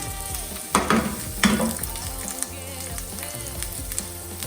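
Vegetables fry in a hot pan with a steady crackling sizzle, broken early by a couple of louder bursts from stirring, all close up and with no speech.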